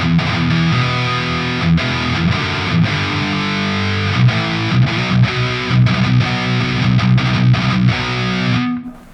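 A Schecter Banshee Mach 7 guitar plays through a Master Effects Marauder distortion pedal with the mids turned up, thick, grainy driven chords and chugging riffs ringing loud and alone, ending abruptly.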